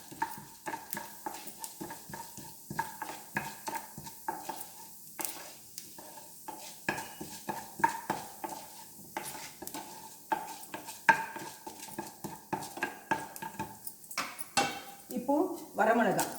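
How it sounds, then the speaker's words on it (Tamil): Urad dal roasting in a pan, stirred with repeated scraping strokes of a spoon in an irregular rhythm, a light sizzle and occasional pan knocks, with faint speech underneath at times. "உளுத்தம்பருப்பு போட்டுக்கணும். போட்டு இது கொஞ்சம் வறுத்துக்கணும்."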